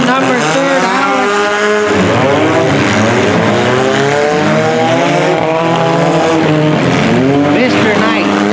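Demolition derby cars race a figure-8 track at Bolton, engines revving and whining in overlapping sweeps as they jostle side by side, loud and continuous with a commentator talking over the action.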